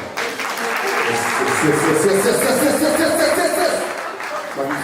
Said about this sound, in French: Est-ce que vous pouvez vous applaudir, s'il vous plaît?